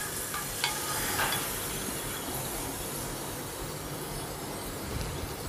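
Vegetables frying in a pan make a continuous hissing sizzle, with a few clinks of stirring early on and no talking.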